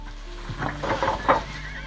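Stressed mares shut in stalls give a few short, strained neighs and snorts, moderately close, with rustling and knocking around them.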